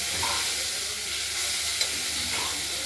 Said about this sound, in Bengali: আমরা এগুলো ভেজে নেবো মাছগুলোকে